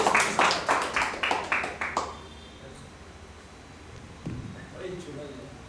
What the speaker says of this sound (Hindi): एक बार आपकी भरपूर तालियां उन्हें आमंत्रित करें।